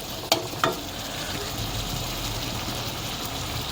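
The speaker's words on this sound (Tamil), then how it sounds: "தக்காளியை வதக்கி விடுங்க" Tomatoes sautéing in a pan: steady soft sizzle throughout, with two sharp spatula taps near the start, moderately quiet.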